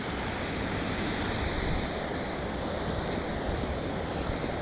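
Gayle waterfall near Hawes, a steady broadband rush of falling water, loud and close, constant throughout with no voices.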